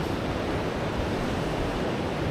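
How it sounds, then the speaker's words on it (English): Waves break onto rocky outcrops along the Oregon coastline in a steady roaring wash, full and near, with a constant churning hiss and no talking. "Just watching the waves splash onto them"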